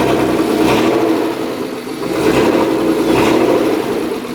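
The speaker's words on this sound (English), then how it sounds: "Let's see what it sounds like with the car on. I mean, it doesn't have a muffler at the moment, so I assume it's just going to be just as loud" A BMW M50B20 engine swapped into an old Toyota drift car, running with no muffler, revs loudly up and down in close, raw bursts with a rough idle between pulls.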